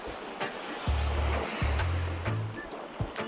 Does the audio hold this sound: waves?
yes